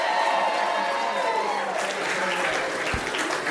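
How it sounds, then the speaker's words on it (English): Comedy club audience applauding steadily at Gotham Comedy Club, dense sustained clapping with some crowd noise and cheering throughout, fairly close and loud. "Big round of applause for Isto"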